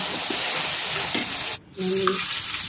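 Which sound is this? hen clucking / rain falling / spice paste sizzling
spice paste sizzling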